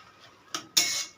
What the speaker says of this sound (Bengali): এবার ঢাকনাটা আমি খুলে দেব। খুলে একটু নাড়িয়ে দেব।